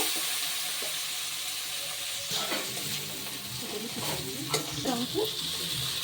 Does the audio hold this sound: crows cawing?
no